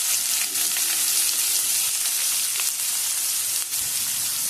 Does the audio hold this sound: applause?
no